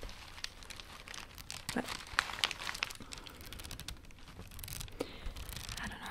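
Paper tucked inside a stone shopping-haul item is crinkled and rustled by hand: quiet, close, irregular crackles and soft tearing sounds in short bursts, with a brief spoken word.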